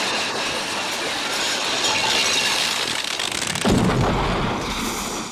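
A loud comedic explosion from the Mr. Creosote sketch, a dense, roaring blast of noise that swells and surges with a heavy burst near the middle and no voices.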